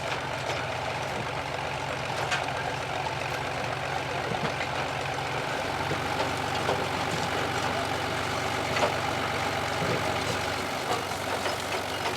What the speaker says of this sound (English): The harvester doesn't take much horsepower to run, and the 3140 is running at about 1000 RPM.